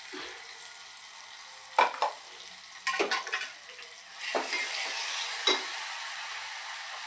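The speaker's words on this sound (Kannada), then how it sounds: "ಎಣ್ಣೆ ಹಾಕಿದ್ರೆ ಸ್ವಲ್ಪ ಖಾರ ಫ್ರೈ ಆಯ್ತಲ್ಲ" Chili paste fries in hot oil for a festival curry, giving a steady high sizzle broken by a few sharp scrapes and clatters of stirring. The hiss swells louder toward the end, with no voices.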